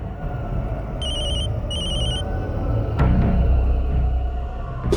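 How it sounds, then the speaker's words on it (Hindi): A phone rings in two short electronic trill bursts, clear and close, over a steady background hum, followed by a sharp knock and a low rumble. "अरे कब से तेरा फोन बज रहा है?"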